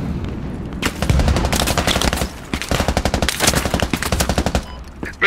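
Machine gun fire in the Squad infantry video game, loud rapid bursts of many shots in long strings, close and dominant with no talking.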